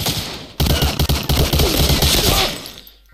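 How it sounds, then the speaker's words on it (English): Heavy gunfire from World War II shooter Medal of Honor: Allied Assault, loud overlapping bursts that start abruptly and continue as sustained fire before tapering off at the end. "They can shoot me through the fence."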